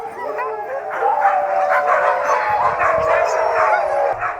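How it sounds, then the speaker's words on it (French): A pack of sled dogs at a dog-sled departure in Charlevoix fills the air with a dense, continuous chorus of howls, yips and whining barks, loud and overlapping throughout. "Les aboiements sont si puissants qu'on se croirait au départ d'une course de Formule 1."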